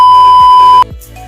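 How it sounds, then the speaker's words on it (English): An incoming call on a phone rings as a single loud, sustained electronic beep tone that cuts off abruptly, leaving a quieter background afterward. "I'm getting another phone call."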